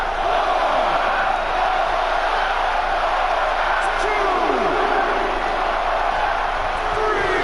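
Arena crowd in the WWE SmackDown vs. Raw wrestling video game keeps up a constant loud roar of cheering throughout, with an announcer talking over it.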